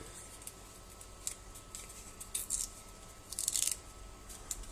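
Adhesive tape is handled while a thermometer sensor is taped onto a resistor, giving close, crinkly bursts of tape noise and a few sharp snips over a quiet background.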